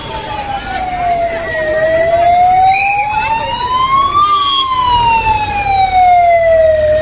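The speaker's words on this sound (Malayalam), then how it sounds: "സൈറൻ മുഴക്കി ആംബുലൻസ് അത്യാഹിത വിഭാഗത്തിലേക്ക് പാഞ്ഞെത്തി." A wailing ambulance siren rises and falls steadily and loudly as it rushes to a hospital emergency department during a mock drill in Alappuzha, passing close by with traffic rumble underneath.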